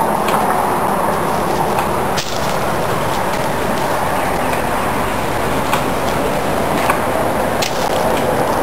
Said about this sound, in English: You can hear the highway in the background.